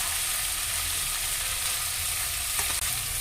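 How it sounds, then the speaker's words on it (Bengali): Chicken pieces for butter chicken fry in a pan over low-medium heat, a dense steady sizzle with a faint stir or clink near the end, close and alone. "এভাবে নাড়াচাড়া করে আমাদের প্রায় মিনিট 10 এটা ভেজে নিতে হবে।"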